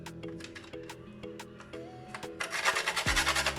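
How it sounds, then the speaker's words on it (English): Nutmeg grated over a bread and butter pudding before baking, quick rhythmic rasping strokes with light ticking, faint and close, ending in a brief louder scraping flurry. "Just going to be grating some over. This is nutmeg."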